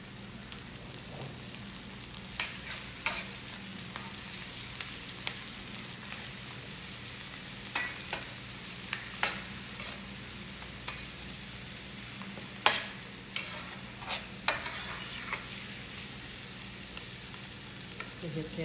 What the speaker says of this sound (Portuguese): vou acrescentar mais uma colher de manteiga